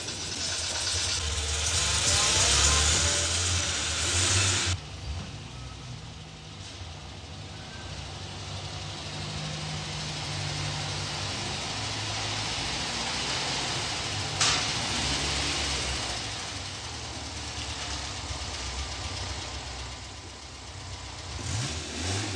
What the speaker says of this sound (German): Nach ein paar Sekunden ist der Motor da.